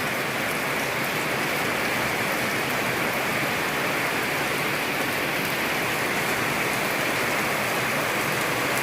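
Steady morning rain falls without a break, a dense, even hiss of drops on surfaces with no voices over it.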